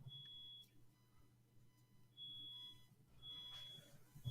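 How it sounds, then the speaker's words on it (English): A smoke detector near a home kitchen gives three high, steady electronic beeps, each roughly half a second long, spaced a second or more apart, faint against a low background hum. "Is it because you guys have the smoke detector so close to the kitchen?"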